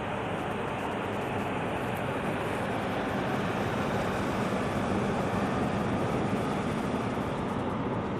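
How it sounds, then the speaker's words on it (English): Steady broadband air-conditioning hum inside a Royal Thai Air Force aircraft exhibit, loud and unchanging throughout with no breaks. "sorry about the noise from the aircon"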